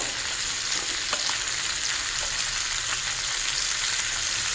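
Brinjal sizzling in hot oil in a pan, a loud continuous frying crackle with scattered pops and a light stirring scrape, close and steady throughout.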